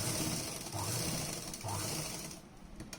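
A sewing machine runs steadily while stitching the lining of a blouse, its continuous mechanical whir and buzz close up, with brief pauses between stitching passes.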